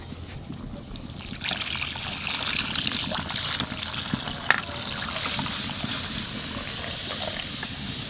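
Water pours steadily into a pot of whole lentils cooking on the stove, a continuous hissing trickle with a soft steamy rush that holds at an even level throughout, with no voices.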